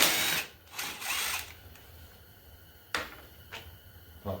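A cordless power drill with a dying battery, used on a Briggs & Stratton small engine repair: short weak whirring bursts that sputter and fade, followed by a few sharp clicks and brief spins.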